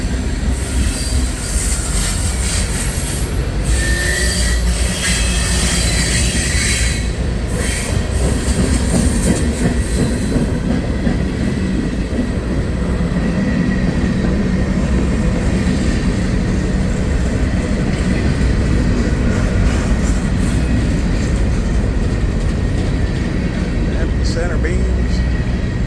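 A long CSX manifest freight train, led by five locomotives with a mid-train DPU, grinds past nearby with constant loud rumbling, shrill wheel squealing and some clickety-clack, while a person talks over it.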